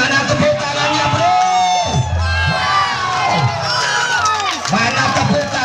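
Loud crowd at a tug-of-war final in Lumajang cheers and whoops continuously, with children shouting amid the din and a commentator talking over it throughout.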